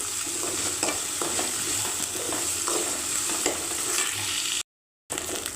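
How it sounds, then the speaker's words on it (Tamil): Dried anchovies sauté in hot oil in a pan, giving a steady close sizzle with light stirring scrapes and no talk, broken by a brief dropout near the end. "இதை கொஞ்சம் நேரம் அப்படியே எண்ணெயிலே வதக்குங்க"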